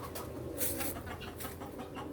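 Pigeons coo softly and repeatedly nearby on a farm, their low throaty calls blending with some faint outdoor background noise.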